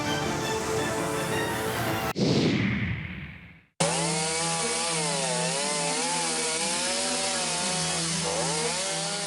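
A chainsaw cutting through a fallen banyan tree during a roadside cleanup, loud buzzing interrupted by a brief change of pitch before a steady high idle drone resumes, close and alone without voices.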